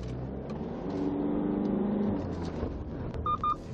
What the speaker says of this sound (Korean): 이 차량 토크감을 한번 느껴보기 위해서 한번 엑셀 테스트 해볼 건데요